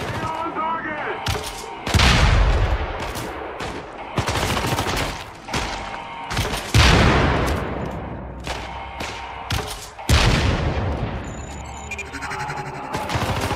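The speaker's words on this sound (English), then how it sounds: "This is the TAR assault rifle with underslung grenade launcher." Gunfire from the TAR assault rifle with underslung grenade launcher in the video game Syndicate, heavy repeated bursts and booming blasts, loud and close, with a voice talking in between.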